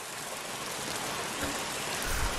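Steady rain falls in the Roblox game Bloxburg, a dense continuous hiss with a few low thumps near the end and no speech.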